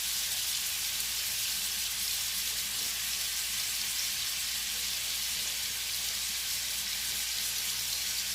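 Shrimp sizzle steadily in a pan over medium-high heat with Worcestershire sauce, a continuous bright crackling hiss close by that holds even and loud throughout, with no talking.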